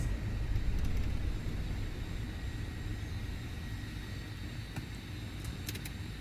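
Small aircraft piston engine winding down after the idle cutoff is pulled, a steady low drone slowly fading, heard from inside the cockpit with faint clicks near the end.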